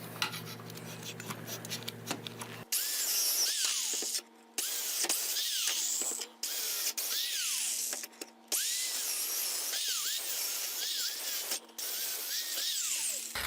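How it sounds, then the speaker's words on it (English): Circular saw cutting through free pallet wood, a loud continuous whine of the blade in long passes broken by short pauses, with repeated rising and falling pitch sweeps as the motor spins up and bogs into the boards. "why am I using a circular saw to do this instead of something like a Sawzall?"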